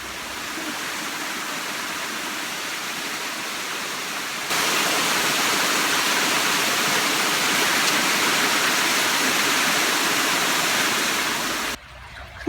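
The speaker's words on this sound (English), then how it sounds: "Sound of the running water." A stream of running water flows outdoors, a steady broadband rush that grows louder partway through and stays continuous before cutting off abruptly at the end.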